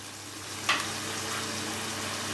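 Chicken korma fries in a pan with a steady, even sizzle, broken once by a brief scrape of a spoon stirring through it.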